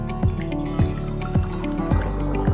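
Homemade apple cider vinegar is poured through a funnel into reused bottles, making a steady run of liquid glugs about every half second over a continuous trickle.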